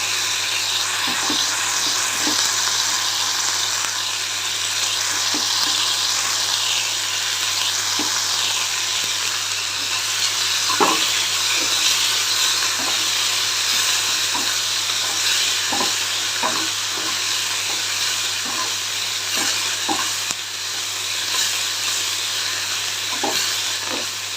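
Moong dal pesarattu batter with coriander frying in a pan, a loud continuous sizzle and hiss with repeated scrapes of stirring breaking through, steady throughout and close.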